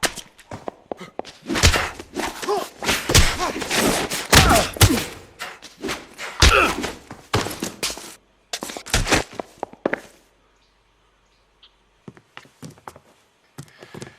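Fistfight in the L.A. Noire video game on PS4: a close, rapid flurry of heavy punches, thuds and scuffles for about ten seconds, then near silence broken by a few scattered softer impacts.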